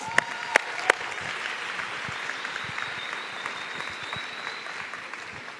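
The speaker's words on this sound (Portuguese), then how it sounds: "Vamos recebê-lo com uma salva de palmas?" A church congregation applauding steadily, dense clapping that holds at an even level throughout with a few sharper claps near the start.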